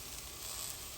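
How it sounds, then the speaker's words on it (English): Diced mushrooms and garlic sautéing in a pan for Bolognese sauce, a faint, continuous airy sizzle with no other sounds. "now we're going to just continue to saute this for about another 2 or 3 minutes"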